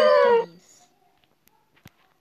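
A dog howls in a video game: one loud, drawn-out howl in the first half-second, then only faint, scattered game sounds and soft clicks.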